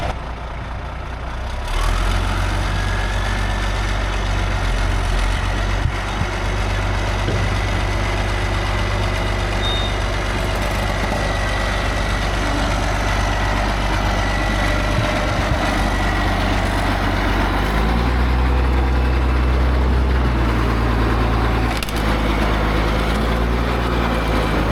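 A Caterpillar 977H track loader's heavy diesel engine idles and works steadily while being loaded onto a semi trailer, a continuous close rumble that shifts in pitch and load partway through.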